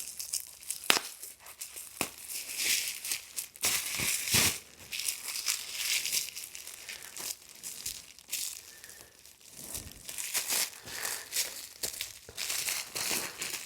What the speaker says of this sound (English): So we unwrap one of our injectors.